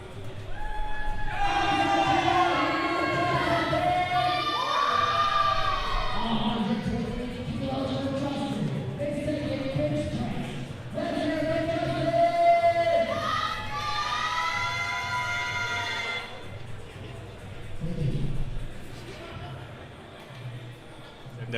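An audience at a powerlifting meet cheers and shouts for a lifter, loud waves of crowd noise rising and falling over several seconds, with an announcer talking over them.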